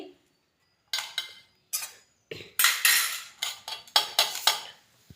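Metal spoons set down on a lunch box lid give a run of close, bright clinks and clatters, some single and some in quick clusters, after a brief quiet start.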